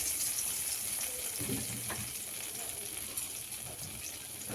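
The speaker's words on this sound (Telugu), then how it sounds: "మనం కడిగి పెట్టుకున్న కొత్తిమీర వేసేసుకొని దీన్ని కూడా ఫ్రై చేసేసుకుందాం" Washed coriander leaves frying in a spoonful of oil in a kadai for tomato chutney, a constant close sizzle with soft stirring rustles and a few brief knocks.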